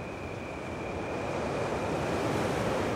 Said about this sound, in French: on entend le ressac. Il y a la mer là-dessous.